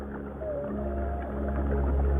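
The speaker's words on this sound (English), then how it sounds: "This is the song of a humpback whale." A humpback whale sings underwater, a faint melodic moan gliding over a dense, rumbling ocean background, with no voices present.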